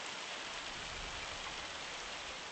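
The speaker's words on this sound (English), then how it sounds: "it's raining" Steady rain falls in Farming Simulator 25, a dense, even hiss of drops on surfaces that continues without a break for the whole stretch, with no voices over it.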